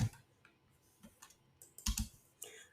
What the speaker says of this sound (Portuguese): Ele vai digitar.